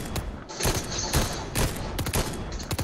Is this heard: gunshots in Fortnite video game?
yes